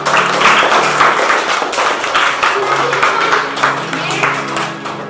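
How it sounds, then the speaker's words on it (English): A crowd of students and staff at a school assembly claps for a student, a dense steady patter of many hands lasting several seconds while voices speak over it. "Please again give a big applause for him."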